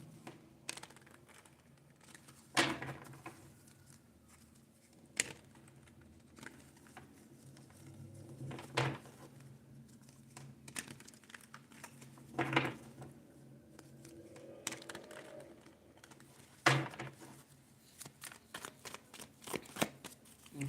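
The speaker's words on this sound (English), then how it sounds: "let's get a good shuffle, because this is no game here" Tarot cards are shuffled by hand in quiet, uneven bursts of riffling and soft slaps, with short pauses between handfuls and no talking.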